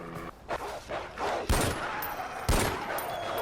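Pistol shots in Far Cry 4 gameplay: two sharp, loud reports about a second apart, each a sudden broadband crack over a busy game background, with a softer earlier burst of game noise.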